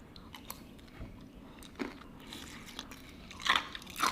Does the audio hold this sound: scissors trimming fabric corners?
no